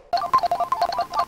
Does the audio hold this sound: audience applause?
no